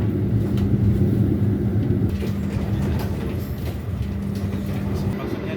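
Argo Semeru passenger train running in Indonesia, a steady rumbling rolling noise with faint clatter, heard from on board at moderate level.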